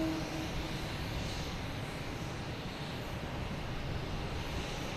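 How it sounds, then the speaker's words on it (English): A Spirit Airlines airliner at Boston Logan Airport makes a broad, steady jet roar that holds loud and constant throughout, with no voices. "Hopefully this Spirit Airlines will quiet down a little bit so we can get some plane sounds"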